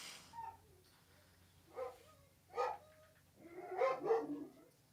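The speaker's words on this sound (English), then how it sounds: "Man, the dog's sure going" A dog barks several times in a setting where people are gathered, short separate barks at moderate distance over a low steady background hum, with no talk during the barking.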